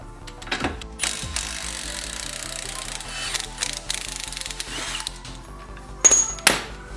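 Track bar bolt on a Jeep JL being loosened with a tool, giving a steady mechanical whir with sharp metallic clanks and clicks near the start and end, close and moderately loud.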